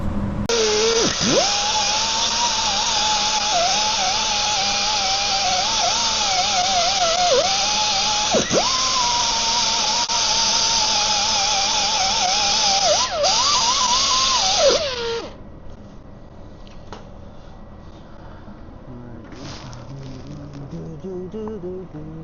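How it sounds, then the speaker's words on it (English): A welder lays a bead on a custom mount for a 1995 Jeep YJ. A steady, loud, crackling buzz runs unbroken for about fifteen seconds, then cuts off, leaving quiet shop noise. "Gotta finish welding the spot up here."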